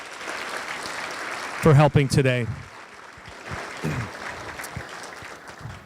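An audience at a Rotary luncheon claps for sign language interpreters, a loud burst of applause swelling briefly over a steady room murmur, with a person speaking both before and after it.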